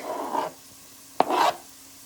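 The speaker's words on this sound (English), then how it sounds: "So now we're going to add our garlic." Minced garlic going into a pan of sizzling onions while cooking gingee and salted fish, heard as two short bursts of frying hiss and stirring scrape separated by a quiet pause, close and moderately loud.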